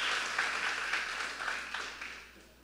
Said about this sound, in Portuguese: Você pode aplaudir a Jesus por um minuto